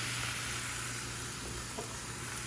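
Butter chicken ingredients hiss and sizzle in a hot pan, a steady, close, even frying sound with no talking.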